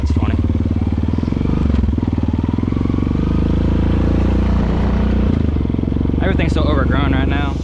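A Honda Rancher ATV engine drones steadily and loudly while riding, a close, rough, continuous throb, with a person talking over it near the end.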